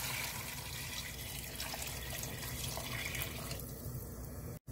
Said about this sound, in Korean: 여기에 물을 부어줍니다.